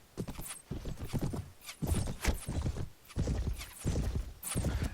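A horse gallops with rapid, rhythmic hoofbeats and lets out a whinny while being cut down in combat in the video game Mount & Blade (Prophesy of Pendor mod), loud, close and repeating in bursts throughout.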